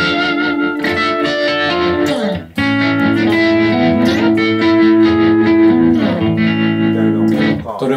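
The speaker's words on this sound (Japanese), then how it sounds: "トレモロとディレイがかかったみたいな" An electric guitar rings out through tremolo and delay effects, sustained chords pulsing and echoing loud and up close, with a brief gap before the notes swell again.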